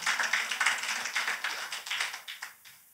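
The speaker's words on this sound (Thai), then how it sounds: "ปรบมือกับพระเจ้าของเราได้กัน" A church congregation claps their hands together in a steady, fairly quick rhythm, the sharp claps coming close and dense before thinning out and fading near the end.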